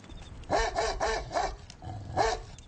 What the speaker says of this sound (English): I got big guard dogs.